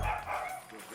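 A wounded dog barks once, close and fairly loud, at the start of the clip, and the sound fades into a quieter outdoor background.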